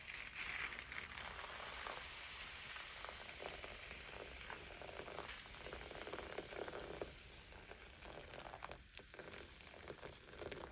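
Hot water poured onto baking soda and salt around a silver earring gives a steady fizzing, sizzling hiss with a few splashy bursts, close and continuous.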